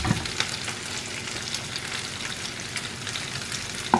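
Mushroom masala sizzles and fries in oil in a pan, a continuous dense crackle and spatter at steady volume close by, with no voices.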